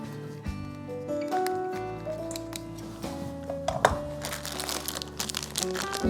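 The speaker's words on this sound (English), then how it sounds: "So I'm just going to snip one corner of our bag." A corner of a plastic Ziploc bag being snipped with scissors while cooking stuffed peppers, with close crinkling plastic, small clicks and cuts over a faint humming background.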